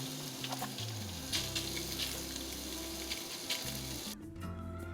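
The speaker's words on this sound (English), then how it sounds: "when you add the pasta to the pan, you want to hear that sizzle" Pasta sizzles steadily in a hot frying pan, a bright continuous crackle under a low background hum, stopping abruptly near the end.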